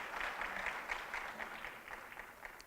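An audience applauds the First Ladies at a formal gathering: steady, fairly faint clapping from many hands that keeps a dense, even texture throughout.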